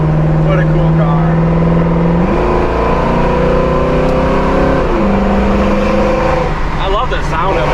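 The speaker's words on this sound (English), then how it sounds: "New dual exhaust sounds awesome." A rumbling 1969 Chevrolet Nova engine with a deep dual-exhaust note drones steadily in the game Motor City Online, pitch rising and shifting as it revs, loud and close.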